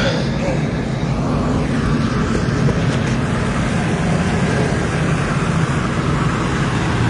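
Speedboat under way with its owner at the helm, newly added to a fleet for carrying patients and bodies in Sandwip: a loud, steady engine and hull roar with wind and water noise, continuous throughout.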